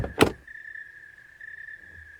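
A door opens in a live Filipino radio drama: a sharp knock-like thump, then a long, steady creak that holds at an even pitch for about two seconds.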